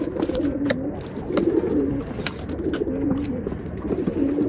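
Gouldar pigeon cooing in a loft among other pigeons, repeated soft throaty coos in a steady rhythm over a busy background of bird calls and sharp chirps.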